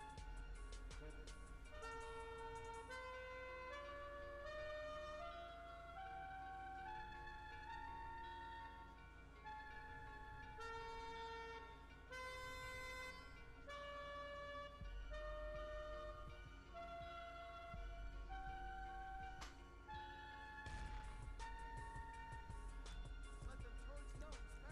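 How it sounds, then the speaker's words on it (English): A car horn in Grand Theft Auto V plays a rising do-re-mi musical scale of distinct tones, followed by more melodic toots, loud and clear nearby. "They do have the do re mi fa sol la ti do as the new horn"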